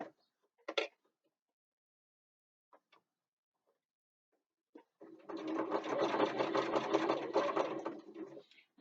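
A sewing machine stitches around curves in fabric for a bookbag backpack. A few soft clicks and handling noises come first, then a steady, close motor hum with rapid needle clatter runs for several seconds before stopping.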